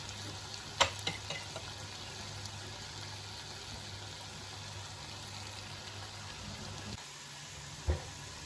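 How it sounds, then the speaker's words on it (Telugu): Potatoes frying in a pan for a crispy potato fry give a soft, steady sizzle throughout, with a few faint clinks and stirring knocks near the start and end. "అప్పటి వరకు ఇది వేయించుకుందాం."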